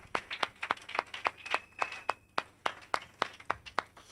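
A few people in a church congregation clap in a quiet, sparse, roughly steady rhythm, each sharp clap distinct against a hushed room.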